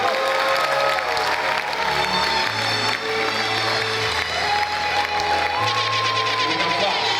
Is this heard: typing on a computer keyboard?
no